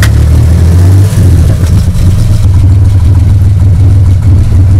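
A loud, close first-series Chevrolet Opala six-cylinder rumbles with a deep throaty note, rising and dipping slightly as it revs over a steady idle throughout.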